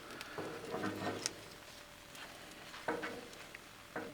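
Taquitos crisping on a Blackstone griddle give a faint, steady sizzle and crackle with a few soft pops and scrapes, quiet and close, with no voices.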